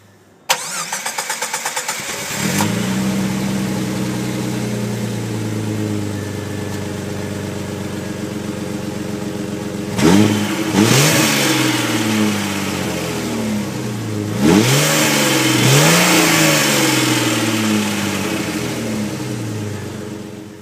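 A 2004 Jeep Grand Cherokee Laredo with a low battery cranks briefly, fires up and settles into a steady, loud idle, then is revved twice with rising and falling engine swells before returning to idle.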